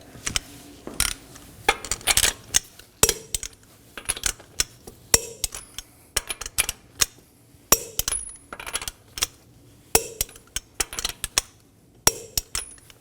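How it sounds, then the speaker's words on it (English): Lug nuts being torqued to spec on the front wheel of a 2015-2023 Nissan Maxima after a brake job, heard as a series of close, sharp metallic clicks and clinks in irregular bursts, with no voices. "Now we're going to torque these lug nuts to 83 foot-pounds in a crisscross pattern."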